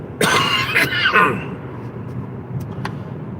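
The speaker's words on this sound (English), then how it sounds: "that's the persistent cough that I'm dealing with." A few harsh, raspy coughs from a persistent COVID cough close to the mic, followed by quiet room noise and a couple of faint clicks.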